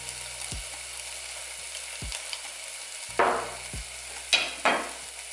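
Better Than Bouillon being stirred into frying vegetables for broccoli cheddar soup, with steady sizzling in the pan, a few low utensil knocks against the pot, and brief louder bursts of frying as the mixture is moved.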